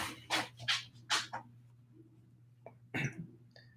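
An elderly 14-year-old Yorkshire terrier makes a run of short, breathy, snorting and coughing noises close by, then falls quieter before a final snort.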